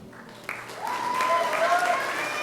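An audience claps for a teacher and her class at a 5th grade graduation, the applause swelling from quiet to a steady, full round with a few whoops and voices mixed in.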